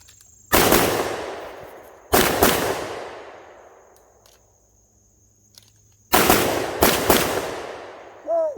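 Pistol shots are fired at a competition target, loud and close. One shot, then another about 1.5 seconds later, then a pause before a quick pair, each with a decaying echo and no talking.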